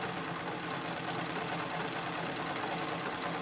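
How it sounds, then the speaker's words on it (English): A sewing machine stitches steadily with heavy 40-weight cotton thread, matched in top and bobbin, while sewing a gold bag; a continuous close, even mechanical whir with fast rhythmic stitching. "this machine likes it best when I use the same thread for the bobbin and for the top."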